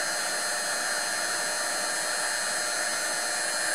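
A heat gun runs on its medium setting during repair work on a handheld radio's rubber duck antenna, giving a steady, even blowing hiss with no break.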